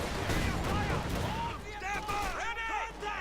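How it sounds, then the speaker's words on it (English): Grenade blast and gunfire in the real-time strategy game Company of Heroes 2, a dense burst of explosive and shooting noise that thins out, under a voice talking and tonal game effects. "Grenade here."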